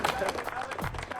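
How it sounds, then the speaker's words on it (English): Audience applause at the New Zealand Minigolf Championships, a soft, dense patter of many hands clapping at a distance, with crowd noise and voices mixed in. "give yourselves a round of applause"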